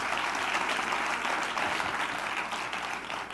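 Audience at a TEDx talk in Manresa applauding, a dense, steady wash of clapping from a full room, sustained throughout and fading slightly at the end.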